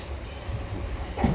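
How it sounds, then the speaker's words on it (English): A Class 377 electric unit, 377-125, rolls into a station platform with a low steady rumble and a brief squeal of brakes near the end. "So our train is coming in now."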